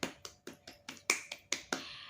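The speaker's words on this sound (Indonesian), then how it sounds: "ayo beri tepuk tangan untuk diri kalian masing-masing" Classroom applause comes as a quick rhythmic run of about nine crisp, close hand claps in two seconds, like a patterned group clap.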